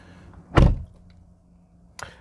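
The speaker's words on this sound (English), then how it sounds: "Let me close the door." A single solid thunk as a Kia Xceed car door shuts, followed by a fainter short click or latch sound about a second and a half later, in a quiet setting.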